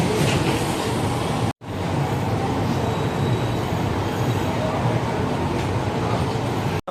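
Passenger express train pulling into Coimbatore Junction on the Madurai route, a dense continuous rumble of wheels and carriages close by, with a brief cut early on and faint voices mixed in.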